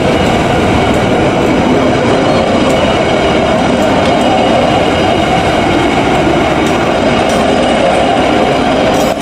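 A KRDE BIAS diesel railcar train on a test run in Bandung, slowing to stop at a station, gives a loud, continuous rumble and rolling wheel noise throughout, with faint clatter and no talk.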